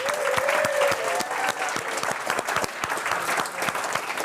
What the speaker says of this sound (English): we should just have a really big round of applause for Marcello.